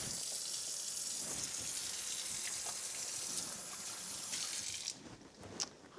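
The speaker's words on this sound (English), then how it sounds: "Let me just rinse my hands because I just had them in all that ground meat." Tap water runs steadily into a kitchen sink as hands are rinsed clean of raw ground meat, a continuous close gushing that cuts off near the end, leaving a few faint clinks.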